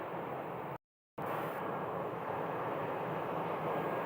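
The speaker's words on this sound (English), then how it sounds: "Allegiant Flight 3238 to Provo, Utah is taxiing onto the runway right now" An Allegiant airliner taxis onto the runway, a steady broad engine rumble and roar heard from a distance, broken by a brief dropout before resuming evenly.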